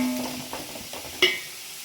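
Onions and green chilies sautéing in a pan for beef dum biriyani: close sizzle with a few scraping stirs and one sharp clack of the spoon midway, brief and without talk.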